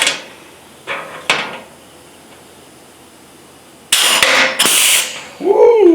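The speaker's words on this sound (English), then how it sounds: "Now to see if my hole puncher will punch holes in this." A hand hole puncher bites through thick sheet metal in a car restoration shop, giving a few sharp metallic clunks and snaps with pauses between, followed by a louder crunching punch near the end.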